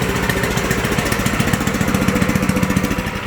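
A walk-behind cultivator's small engine starts and keeps running with a loud, close, steady chugging putter, its regular firing pulses growing more distinct toward the end, with no talking over it.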